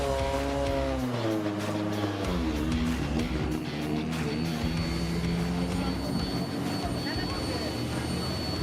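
A drift car rolls out onto the track at Sportsland Sugo in Miyagi during a drift competition, its engine revving and rising in pitch at close range amid background track noise.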